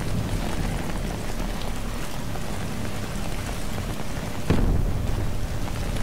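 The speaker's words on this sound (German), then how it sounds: "Ich hasse so ein Regenwetter." Rain and thunder in Battlefield 3: a constant heavy downpour hissing loudly, with a sudden crack of thunder near the end rolling over the rain.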